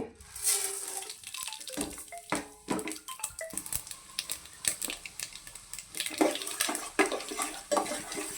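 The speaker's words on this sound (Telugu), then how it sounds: "ఆయిల్ వీటెక్కింది ఇప్పుడు ఇందులో తాలింపు వేసుకుందాము" Tempering spices dropped into hot oil in a pan for coconut pickle crackle and sizzle up close, with a dense run of sharp pops and spits that keeps going.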